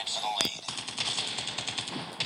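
Rapid automatic gunfire from a Call of Duty video game in a fast, steady rattle of loud shots across the whole stretch, with a sharp burst at the start.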